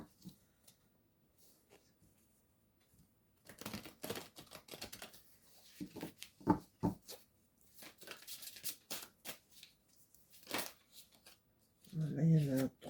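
Oracle cards being shuffled by hand in quick papery riffles and flicks, heard in short bursts between spoken commentary, close and fairly quiet.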